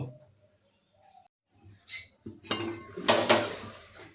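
After a quiet stretch, a metal lid clatters onto a pan of brinjals, giving a few sharp, close clanks and rattles that fade quickly.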